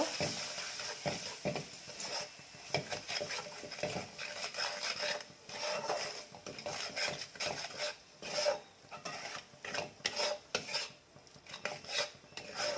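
Masala spiked with red and Kashmiri chili powder gets stirred in a pan for an egg curry, the spoon scraping and rasping in repeated uneven strokes over a soft sizzle, close and fairly quiet, no talking.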